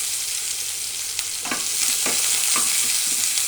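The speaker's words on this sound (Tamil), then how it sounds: "இஞ்சி பூண்டு நசுக்கி வச்சுக்கிறத போட்டுக்கிறேன்." Crushed ginger and garlic hit hot oil in a pan and sizzle steadily, with a few soft stirring scrapes cutting through the close, continuous frying hiss.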